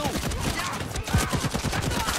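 Rapid automatic fire from a weapon in the shooter game Caliber: a dense, continuous rattle of shots under a busy game mix, with someone talking over it.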